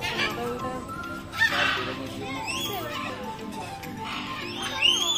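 Cockatoos in an aviary at Kolkata's Eco Park give shrill, rising and falling squawks and whistles, repeated at moderate loudness over a busy background that may include people talking.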